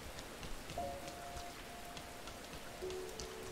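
Quiet, steady rainfall hisses across surfaces in the PlayStation game Rain, with soft drips, while a couple of long, gentle sustained musical tones drift over it.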